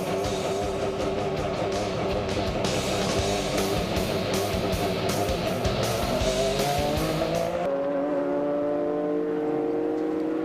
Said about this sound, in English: never mistake the engine note of the flat six Porsche